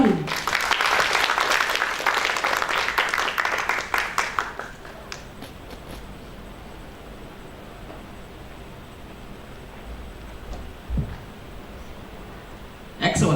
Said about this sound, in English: Let's give a round of applause to Bapak Lukman Nurohim.